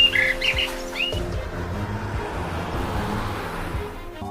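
A cartoon bird gives a few quick, bright chirps at the start, then they give way to a rumbling, noisy background that fills the rest.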